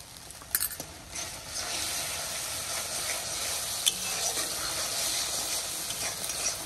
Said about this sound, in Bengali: বন্ধুরা এই মশলা কষানো হয়ে গেছে